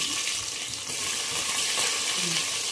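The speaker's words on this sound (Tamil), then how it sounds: "இது கூட இப்போ வெங்காயமும் பச்சை மிளகாவும் சேர்த்து போட்டு நல்ல பொன்னிறமாகிற வரை வதக்கணும்" Sliced onions and green chillies frying together in a pressure cooker for mutton biryani make a dense, bright, continuous sizzle, close and loud, with faint stirring movements underneath.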